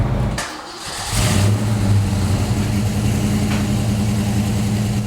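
A 1967 Ford Mustang restomod engine catches and settles into a loud, steady idle with a throbbing low rumble after a brief starting sound, close by and with no talking over it.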